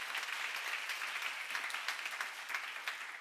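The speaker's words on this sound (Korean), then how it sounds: "박수." Steady applause from a church seminar congregation, a dense even patter of many hands clapping at moderate distance, filling the whole stretch without pause and with no talking over it.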